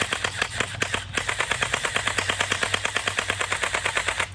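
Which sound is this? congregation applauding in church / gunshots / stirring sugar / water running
gunshots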